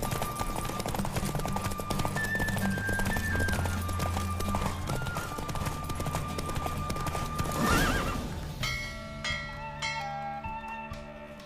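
Galloping horse hooves pound in a fast steady rhythm in The Witcher 3, loud and continuous with a neigh, then the hoofbeats fade as game music and chimes rise toward the end.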